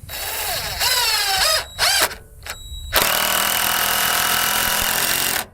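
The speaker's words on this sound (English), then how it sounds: "A 3-inch long deck screw. I'm gonna shoot that right in the middle of the bottom." A power drill drives a 3-inch deck screw into wood during shed wall framing, whining in short bursts with pitch rising as the motor spins up, then one long steady loud run as the screw sinks home, heard alone.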